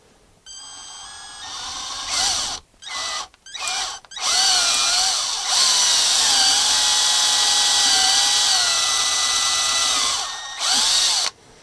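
A power drill with a standard bit bores into a Fender guitar neck for threaded bolt inserts. It whines in several short bursts, then runs in one long, loud, steady stretch, with the pitch wavering as the bit bites.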